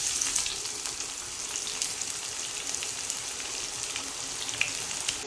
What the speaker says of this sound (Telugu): ఇందులో ఒక చిన్న ఉల్లిపాయ చిన్న చిన్న ముక్కలుగా కట్ చేసుకున్న